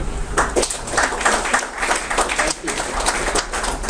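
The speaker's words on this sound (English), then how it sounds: "I think he deserves a round of applause" Applause from an audience for a speaker at the close of a security coding session, a broad, sustained patter of many hands, with a voice talking faintly over it.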